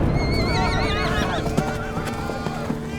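Horses harnessed to a royal carriage neigh and rear in a storm: a loud, wavering whinny rises early and then fades, followed by scattered sharp knocks and hoof-like clatter.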